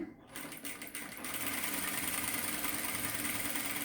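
A sewing machine stitches the neck of a work blouse. A few stops and starts are followed by a steady, close mechanical whirr that runs evenly to the end.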